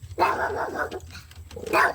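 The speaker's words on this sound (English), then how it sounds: "my dog is going crazy" A dog barks agitatedly nearby in two quick bursts of loud, rough barks separated by a short gap.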